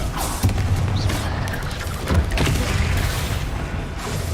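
Rapid blasts of a Confringo fire spell in Hogwarts Legacy, several deep booming thumps and crackling bursts overlapping one another in a dense, chaotic barrage.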